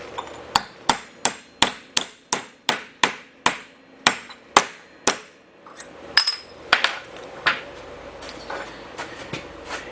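A seal driver is hammered into the seal area of a Willys, about a dozen sharp, evenly spaced metallic blows close by, followed by a looser run of lighter, irregular taps and knocks.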